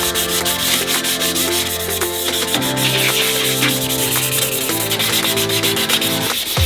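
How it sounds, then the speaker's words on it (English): A sheet of 400-grit sandpaper rubs the coating off an ETS Extreme catback exhaust for a new Subaru WRX, a continuous close scratchy sanding with tonal music running underneath. "400 grit sandpaper. This will just remove this coating a lot quicker."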